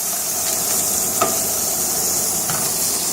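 Sous vide steak searing in a hot pan as the second side browns, giving a steady, close sizzle and hiss throughout with a few faint pops and clicks and no talking.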